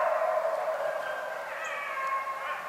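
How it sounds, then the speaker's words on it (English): A pack of coyotes howls and yips together in the distance, a sustained chorus of overlapping wavering howls that carries on steadily with no talking over it. "I hope you can hear this pack of coyotes, boy, they're really making a lot of noise back there."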